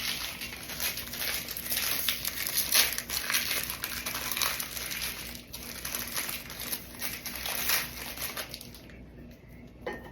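A packet of Captain's wafers crinkles and rustles as the crackers are set on a plate at lunch, a continuous close, busy crackling that fades near the end.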